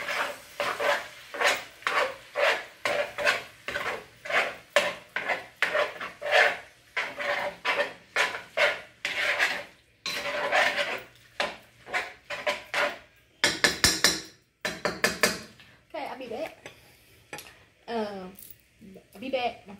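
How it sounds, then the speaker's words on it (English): Food with cream being stirred in a pot while cooking beans and meat for tacos: a long run of quick, rhythmic scraping and clinking strokes, fairly close, then scattered rustling, with a voice briefly in the mix. "Stir this up right quick"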